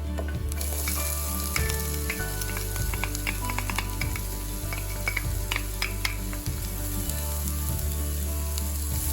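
Minced onions and garlic sautéing in a pan for Filipino spaghetti, giving a steady close sizzle with repeated scraping and stirring strokes throughout and no talk.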